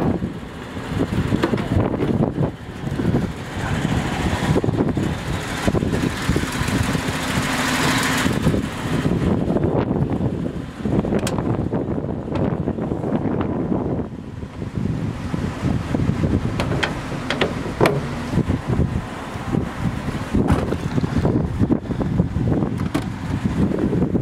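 A 1938 Chrysler Royal C18 convertible with a rumble seat driving along, its engine rumble blended with steady wind buffeting the microphone, loud and continuous throughout with no talk.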